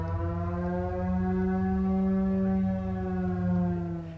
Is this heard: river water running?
no